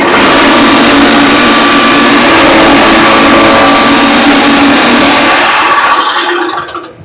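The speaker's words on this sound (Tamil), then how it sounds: "ஷார்ட்டா போடும்போது 1/4 இன்ச் 1/2 இன்ச் எப்படி வெட்டி தருதுங்க இப்போ நம்ம லைவா பாத்திரலாம்" Fodder chaff cutter machine chopping feed for goats and cows into short quarter- to half-inch pieces: a loud, steady roar of motor and blades running continuously for about six seconds before winding down.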